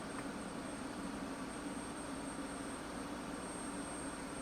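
A simulated F-16 jet engine in the DCS flight game spools up as the throttle is moved to idle, a steady, even roar with a thin high whine running throughout, holding constant with no other sounds.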